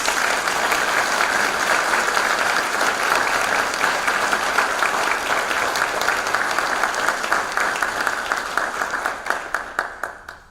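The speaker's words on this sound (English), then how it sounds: "Please, let's give everyone on the stage a round of applause." An audience at a Monroe Community College honors convocation gives a sustained round of applause for the people on stage, loud and even at first, then thinning into scattered claps before dying away.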